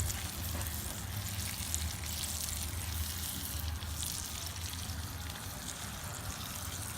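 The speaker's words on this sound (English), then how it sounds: "We'll go ahead and baste the top of it with the butter" Steak sizzling in a hot pan as butter is spooned over the top, a steady soft frying hiss with no talking.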